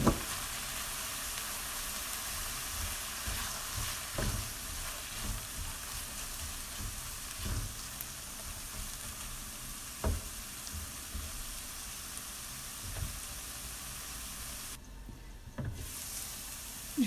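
Two carrots fry in a pan, giving a faint, steady sizzle with occasional soft pops and a few stirring scrapes, heard alone without talking.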